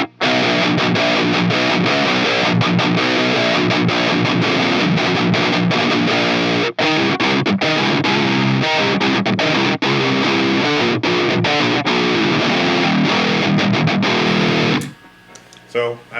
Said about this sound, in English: that's where a distortion pedal shines. It's in front of a clean amp.